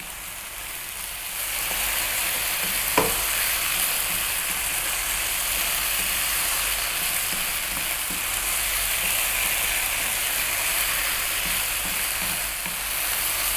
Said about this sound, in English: We're now going to add in the broccoli and very simply stay on this high heat